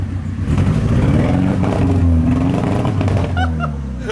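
Audi engine revving up close and loud, one sustained rising and falling rev with rough, clattery exhaust character, ending with a few crackles.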